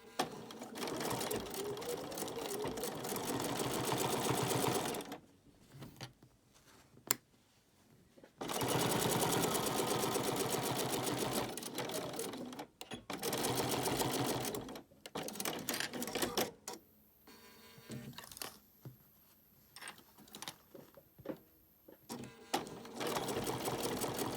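A sewing machine stitches binding on a micro mini quilt in rapid, loud mechanical bursts, running about five seconds, pausing, then resuming with shorter runs and brief stops.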